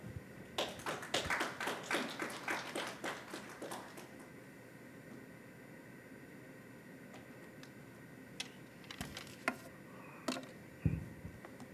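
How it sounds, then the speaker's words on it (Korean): A forum audience claps to welcome a speaker in a lecture hall, a few seconds of scattered, fairly faint hand claps that fade out, then quiet room tone broken by occasional taps and knocks. "큰 박수 부탁드립니다"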